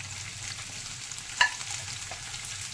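Fried peanuts and green chilies stirred into onions frying in a pan for a potato curry, giving a steady soft sizzle throughout with a single sharp utensil clink midway, close and alone.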